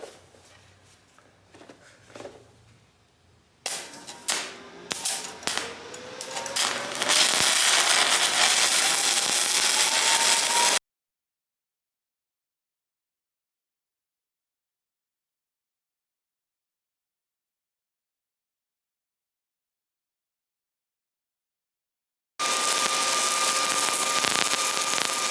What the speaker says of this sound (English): that is our third weld done on 240 volts